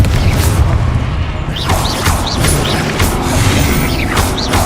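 A Confringo blasting spell explodes in the Hogwarts Legacy video game, a loud, dense burst of booming crashes and rumble that fills the whole stretch, with brief whooshing spell effects cutting through repeatedly.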